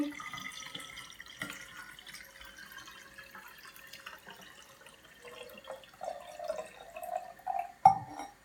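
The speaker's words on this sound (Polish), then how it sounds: "Przygotowaną wodę przelewamy do szklanej butelki." Water pouring into a glass bottle while mixing a homemade lemon fabric softener, a faint trickle that swells into a louder gurgling fill near the end, with no talking.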